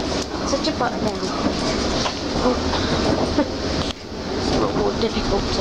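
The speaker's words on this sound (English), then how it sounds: "We're now on the train to Heathrow." Inside a moving train bound for Heathrow, a continuous loud rumble with rhythmic rail clatter fills the carriage while people talk over it nearby.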